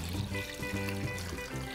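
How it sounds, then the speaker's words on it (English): Water runs steadily into a big pot for cooking stockfish, a continuous close trickling and splashing that fills the short moment on its own. "you're going to place that in a big pot, and you're going to fill that with water."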